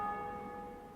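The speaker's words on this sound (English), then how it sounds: "if the bell will stop ringing" A bell in the video game Dark Souls rings with a sustained metallic tone that slowly fades, heard alone with no speech.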